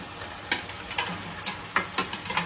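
Chicken pieces hit a pan of mustard-oil spice paste for a Bengali chicken and potato curry, with a steady sizzle and several sharp stirring scrapes and clacks at an uneven beat.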